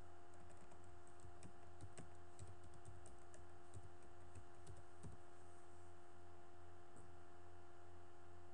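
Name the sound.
typing a password on a computer keyboard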